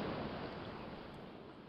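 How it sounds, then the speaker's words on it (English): Steady, soft rushing of running water in the video game The Witch's House, continuous and even, heard up close with no other sounds. "You heard water running."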